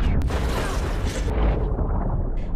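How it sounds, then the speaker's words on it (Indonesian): A torpedo strikes sunken shipwreck debris in the submarine film Hunter Killer, producing a loud, dense underwater blast that rumbles heavily and sustains for a couple of seconds before thinning out. "kemudian torpedo itu menghantam puing tersebut."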